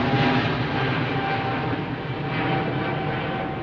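An Airbus A380 departing from London Heathrow runway 09R gives a steady, loud, broadband roar that holds even for a few seconds, with no voices.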